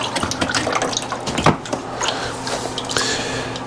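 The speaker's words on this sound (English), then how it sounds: "we're going to drain this out until it stops draining" Old coolant draining out of a Yamaha Kodiak 450 ATV that sat unused for eight years, heard as a steady close trickle and splash of liquid with a few faint knocks.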